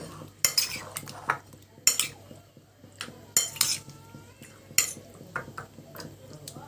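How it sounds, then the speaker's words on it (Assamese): A spoon stirs chicken pieces with lemon juice in a bowl at close range, giving a handful of sharp clinks and scrapes spread unevenly over several seconds, with quiet gaps between them and no talking. "এতিয়া মই এইখিনি অকণমান লৰাই দিম"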